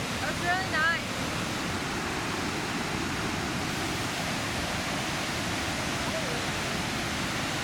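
Milla Milla Falls in Cairns, Australia pours as a steady, broad rushing roar that fills the whole stretch, with a brief voice near the start.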